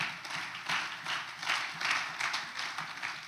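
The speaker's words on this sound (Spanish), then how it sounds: "denle un aplauso a su Señor." A church congregation applauds during a sermon, a faint, continuous patter of many hands heard from a distance with a soft wash of room noise.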